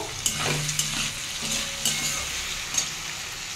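Continuous close sizzling of potatoes and softened tomatoes frying in a pan, punctuated by a few light scraping taps of a spatula; no voices.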